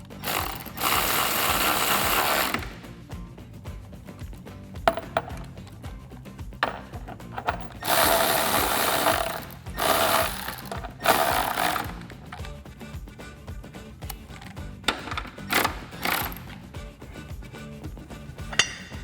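A 13 mm ratchet wrench tightens bracket bolts for black nerf side step bars on a Toyota Tacoma. Bursts of rapid ratcheting clicks come close by, broken by short pauses and metallic clinks.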